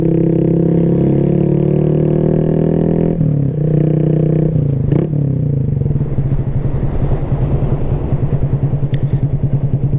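A Honda Grom fitted with an aftermarket exhaust and intake rides along, its small engine droning loud and close, easing off briefly mid-clip before settling into a throbbing, rattly burble with wind rush.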